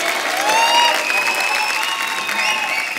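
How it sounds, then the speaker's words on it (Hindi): Studio audience applause on the set of a Hindi comedy talk show, a dense, steady wash of clapping hands that holds at an even loudness for the full three seconds. "एक बार जोरदार तालियां हो जाए।"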